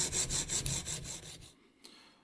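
A CPM-S110V steel knife scrapes across an Edge Pro Apex diamond stone in about eight quick, rhythmic rasping strokes up close. The strokes stop abruptly, followed by one faint tap.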